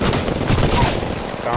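Rapid video game gunfire rattles in a dense, continuous burst of overlapping shots, loud and close throughout the short stretch.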